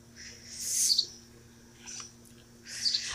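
Small birds chirp in a backyard container garden, several high, bright bursts near the start, middle and end over a quiet background hum, with no talking.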